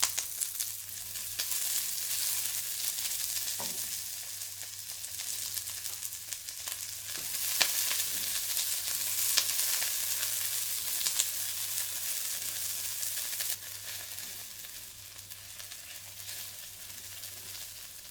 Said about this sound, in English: Sauté the sliced onion until softened and fragrant.